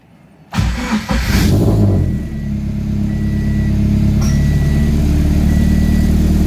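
A Scion FR-S engine turns over and catches, then settles into a loud, steady idle that stays close and continuous to the end.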